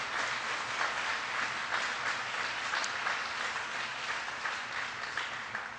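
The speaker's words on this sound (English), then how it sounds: "Please give them a big round of applause." A large crowd applauds loudly and steadily, dense clapping filling the space without letup for several seconds.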